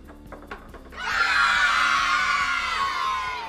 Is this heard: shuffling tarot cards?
no